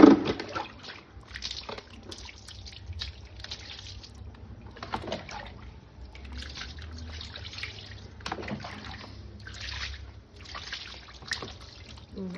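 Water being poured over a cat during a bath, heard as irregular splashes and trickling bursts separated by quieter gaps, fairly close, with faint voices now and then.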